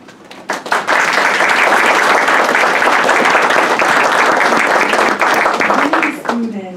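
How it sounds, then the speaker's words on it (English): Audience applause at a Grand Island school board of education meeting, a loud sustained burst of many hands clapping that swells quickly, holds steady for several seconds and then tapers off. "Give another round of applause."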